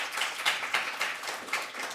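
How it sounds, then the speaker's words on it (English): Audience applause at a WABJ ceremony for Trina Williams, the workshop coordinator: a steady wash of many hands clapping with a few louder swells, moderately close and continuing without a break. "let's give her a round of applause"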